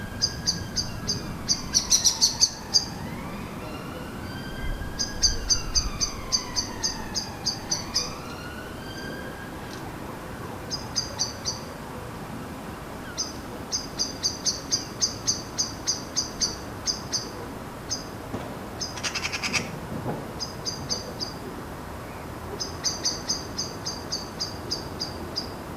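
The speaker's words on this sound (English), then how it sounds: "A juvenile magpie is bothering the blackbirds getting so close to their nests." Around their nests, blackbirds keep up long runs of rapid, sharp alarm chirps in insistent repeated bursts at a juvenile magpie. A wailing siren rises and falls in the distance beneath the calls.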